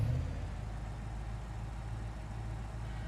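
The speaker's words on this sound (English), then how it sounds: "Pretty basic BeamNG, startup sounds, engine sounds here." A Crown Victoria engine in the video game BeamNG Drive starting up and settling into a steady, low idle drone, moderately quiet and alone.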